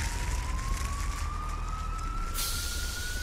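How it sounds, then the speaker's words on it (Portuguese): Cartoon fire truck siren wailing in a steady rising tone with a constant engine rumble beneath, continuous and fairly loud without any talking. "Os carros de bombeiro vão ajudar."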